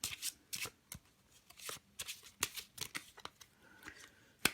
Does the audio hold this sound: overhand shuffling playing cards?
yes